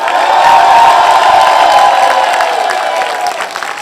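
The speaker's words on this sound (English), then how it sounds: "please give Tiger a huge round of applause" A large crowd at a Bollywood event cheers and claps loudly for Tiger Shroff, a sustained roar of applause and whoops that eases slightly toward the end.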